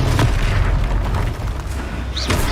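A Confringo fire spell bursts in Hogwarts Legacy, a deep booming blast at the start followed by rumbling decay and a second sharper impact near the end, loud amid game effects.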